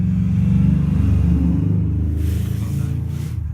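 A vintage tractor fitted with a car exhaust idles nearby, a steady low throbbing engine rumble that stays fairly loud and even with no voices.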